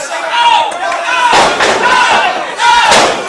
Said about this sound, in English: This crowd is fired up for the Big O.